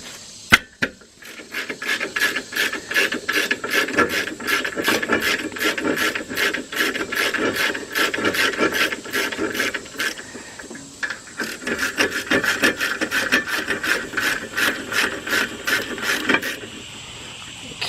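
A ratchet works loose the brake bracket bolts on a 2001 Jeep Grand Cherokee Laredo rear axle, a rapid string of close clicking strokes that pauses briefly before resuming.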